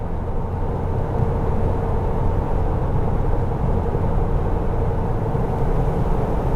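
A Jeep TJ with 3.73 gears and 32-inch tires cruises near 60 mph on cruise control and downshifts on a slight incline, a steady low engine and road drone heard from inside the cab with a faint shift in pitch near the start.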